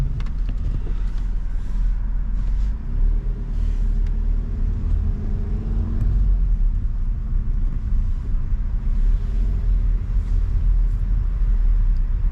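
A car driving during a road driving test, its steady engine and road rumble continuous and fairly loud from inside the cabin, with no talk over it.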